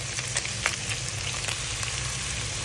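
Chopped garlic, onion, ginger and lemongrass sizzle steadily in hot cooking oil in a pan, a close, continuous frying hiss with faint stirring clicks and no talk.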